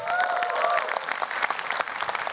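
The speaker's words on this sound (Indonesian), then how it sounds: "Sekali lagi boleh tepuk tangan buat Joshua." Steady applause from the audience at a stand-up comedy show, a dense patter of many hands clapping throughout, with a brief voice near the start.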